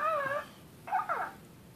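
A Hatchimal electronic toy gives two faint, brief synthetic chirps, a short wavering whine then a couple of quick squeaky yips, with quiet room hiss between.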